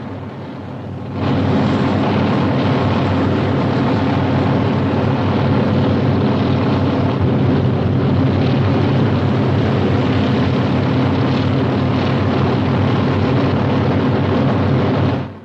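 A helicopter flying over open country during a search, arriving suddenly as a loud, steady rotor and engine roar that holds evenly for about fourteen seconds before cutting off, with no voices.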